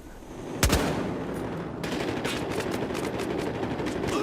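Gunfire in the video game Battlefield Hardline: one loud close shot, then rapid bursts of automatic fire rattling on steadily under a constant background din, with no talking.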